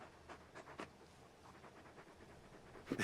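A very large dog in the video game Final Fantasy XVI pants in faint, rhythmic breathy puffs, soft and steady with a slightly louder burst at the end.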